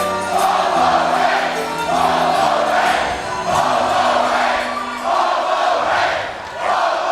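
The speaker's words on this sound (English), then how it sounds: "Just listen to that crowd, folks." A loud arena crowd at an Albuquerque championship wrestling night roars and chants in swelling waves, rising and dipping over several seconds with no talk on top.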